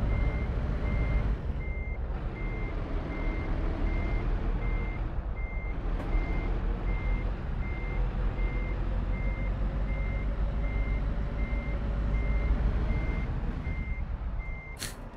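A truck in a trucking video game reversing with a trailer, its steady electronic backup beeps repeating at an even pace over a constant engine drone, with no talking.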